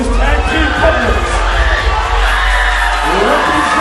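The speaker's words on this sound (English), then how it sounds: "The crowd's going bonkers." Crowd at a New Wave Wrestling live event cheering loudly, a dense, unbroken roar of shouts, whoops and children's yells packed close together, with a voice partly buried beneath it.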